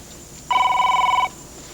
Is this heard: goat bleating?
no